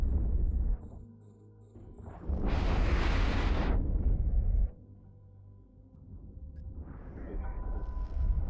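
A spaceship blown up in the EVE Online space game bursts in a loud, roaring explosion lasting about two seconds, set amid droning engine and weapon hums, with a smaller rumbling blast rising near the end.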